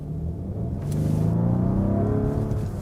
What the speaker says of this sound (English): If you want to hear it, how it sounds on the inside and how the performance is, I can now also push the throttle.